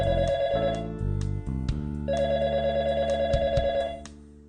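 A phone rings with a melodic electronic ringtone, a loud, close, repeating tonal pattern playing continuously with no talk over it.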